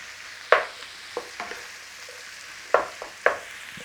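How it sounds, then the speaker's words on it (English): Minced beef with dried thyme is broken up in a hot pan, with a soft sizzle underneath. Several distinct, close spatula knocks and scrapes land at uneven intervals. "In there, our minced beef. Start by giving it a break up."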